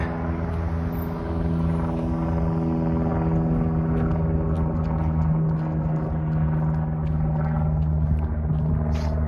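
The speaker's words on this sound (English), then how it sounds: "Oh, I see a plane." An airplane passes over a Toronto street on a winter day, giving a steady, droning hum with a low rumble that holds evenly throughout, moderately loud and alone without talk.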